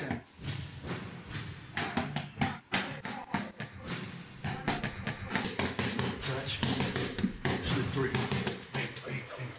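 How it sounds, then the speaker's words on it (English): A string of punch sound effects added during video editing lands as sharp, quick thumps and slaps in an irregular burst, packed close together and mixed with brief swishes, while a voice is faintly present underneath. "when you add the punches, it adds like a whole different dynamic"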